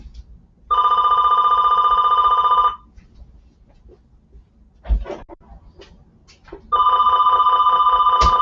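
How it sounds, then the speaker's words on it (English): A telephone bell rings loud and close in two long bursts separated by a pause, with faint knocks and handling noises between the rings. "Phone's ringing."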